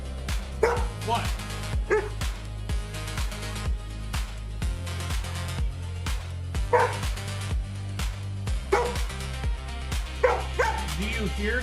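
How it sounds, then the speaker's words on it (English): A dog yips and barks in short bursts across a steady beat of background music, with a person talking between and over the barks. "What are we barking about, goofball?"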